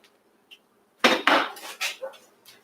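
A knife cuts through a whole onion on a board, giving a few close, sharp knocks and crunches in an uneven cluster after a quiet start, each fading quickly.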